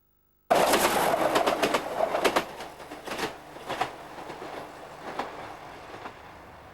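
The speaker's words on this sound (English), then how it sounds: "The train that we've seen has just passed High Peak Junction." A train runs along the railway near High Peak Junction, on a shelf above the River Derwent. A steady, fairly close rumble sets in abruptly, with repeated clicking wheel beats over the rails, fading slightly toward the end. No talk.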